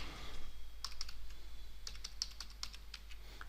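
Typing on a computer keyboard in MS Word: scattered quick key clicks, some in short bursts, close and soft against a low steady hum, with no talking.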